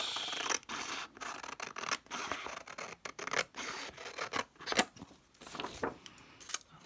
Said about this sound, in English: trim off this bit.